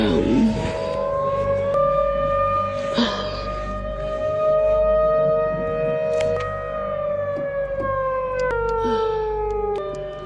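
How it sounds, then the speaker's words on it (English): A civil defense siren wails for a tornado warning, a long steady rising and falling tone that fills the whole stretch, loud and continuous with faint background noise beneath. "the calm was shattered by wailing sirens"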